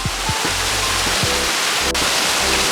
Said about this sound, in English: We have the entire waterfall all to ourselves.